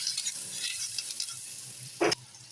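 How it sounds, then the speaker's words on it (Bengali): Potatoes and onions with mustard seeds and curry leaves are frying for upma, giving a soft steady sizzle with faint stirring and one brief louder scrape near the end. "সর্ষে ফোড়ন দিয়ে আলু, সর্ষে আর কারি পাতা দিয়েছি, দিয়ে আলু আর পেঁয়াজটাকে ভালো করে ভেজে নিচ্ছি।"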